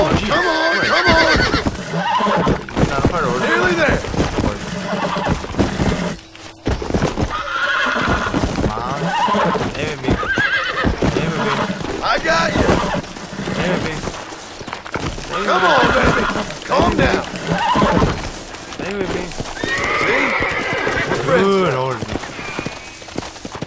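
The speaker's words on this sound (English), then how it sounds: "Come here, horse." In Red Dead Redemption a horse whinnies loudly several times between bursts of hoofbeats, someone talking and coaxing over the animal the whole time.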